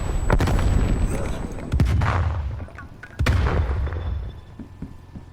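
A grenade explodes in Call of Duty Black Ops Cold War during a Domination match, followed by heavy booming blasts and gunfire bursts that ring out and decay, with one more loud blast partway through.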